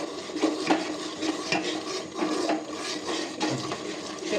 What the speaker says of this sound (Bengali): এবারে এই অবস্থায় সবসময় লাড়তে থাকতে হবে